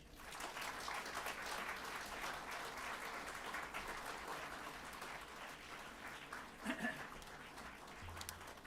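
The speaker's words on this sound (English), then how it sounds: "let's give Mr. Tani a warm welcoming round of applause" A welcoming round of applause rises from the audience at an astronaut exhibition talk, steady clapping that fills the room for several seconds before tapering off, fairly faint and distant.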